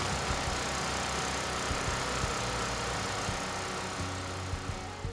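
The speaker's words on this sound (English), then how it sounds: "Pull the recoil start firmly to start the generator" DuroMax gasoline generator engine running after a recoil start, a steady loud droning rumble with constant vibration throughout, close by with no talk.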